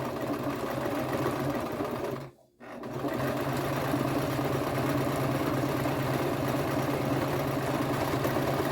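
A sewing machine back stitches the corners of a pillow made from drying mats, running in a steady close whir, briefly stopping for a moment of near silence before starting up again and continuing evenly.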